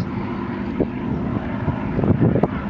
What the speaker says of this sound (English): a Mustang at full throttle, and these two are mostly at full throttle all the time